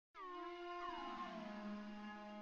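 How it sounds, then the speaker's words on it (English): A sustained synthesizer pad enters and holds, rich layered tones with a slight pitch glide early on, evolving smoothly and fairly quietly. "Alright, so I found a pad I really like."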